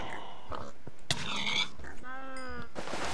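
Pigs in a Minecraft-style game let out several short grunts and snorts, close and moderately loud, spaced across a few seconds with no talking.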